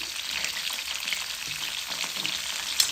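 Cauliflower florets frying in hot oil with salt and turmeric, a dense, steady sizzle close by with no talking.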